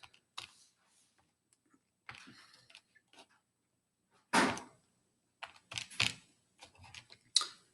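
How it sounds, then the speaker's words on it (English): Numbers are keyed into a calculator: sparse, quiet button taps in small clusters, with a few sharper presses near the end, in a quiet room. "we're going to put this into our calculator here"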